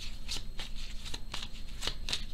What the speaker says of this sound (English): So, pre-card shuffle.